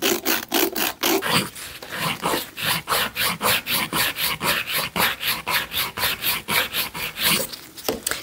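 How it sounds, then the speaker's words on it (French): A nail file rasps back and forth shaping a popit gel nail, a close, loud, even rhythm of rapid scratchy strokes, roughly three per second, with no voices. "on est obligé de repasser avec notre lime pour créer notre forme"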